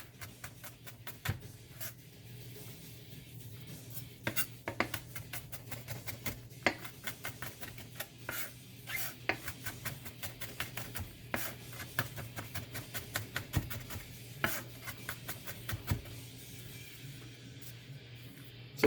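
A kitchen knife mincing jalapeno peppers on a cutting board gives a steady run of quick, close chopping taps over a low hum, lasting the whole stretch with no talk.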